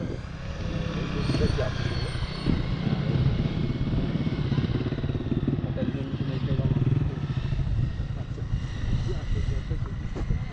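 Honda CBR250 motorcycle ridden slowly by a learner, a steady low engine drone at moderate distance with slight surges in throttle, while someone talks nearby.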